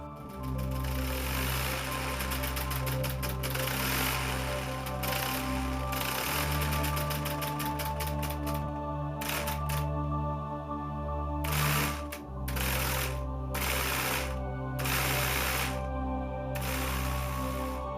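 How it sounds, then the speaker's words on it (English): Rapid mechanical clattering from a small V8 solenoid engine running steadily nearby, with a buzzing hum whose pitch shifts as the speed changes. "the V8 solenoid engine of his own creation"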